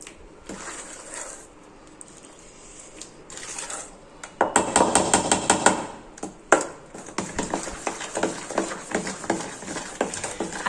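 Mango pulp stirred into shrikhand in a bowl, a spoon scraping and clinking against the bowl in quick bursts, close and fairly loud, with no talking.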